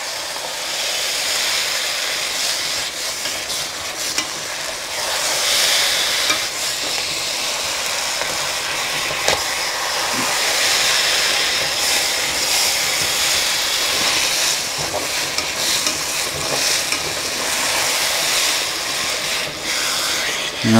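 A spoon stirs a thick, mushy onion mixture frying in a pot, giving a steady sizzling hiss with scraping and clinking throughout, close and fairly loud.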